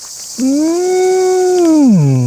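A single sustained, bellowing tone rising then sliding downward at the end, loud and close, sounding like a voice imitating a bull's bellow.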